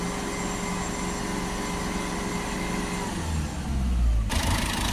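A Ford Focus 1.6 TDCi diesel with a fault is revved, its engine drone held steady and loud, then swelling into a deeper rumble before cutting off abruptly near the end.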